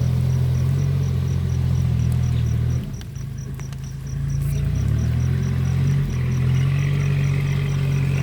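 An orange tractor's engine hums steadily while plowing a wet rice field, a low droning tone that dips briefly midway before resuming, with a high insect-like whine running above it.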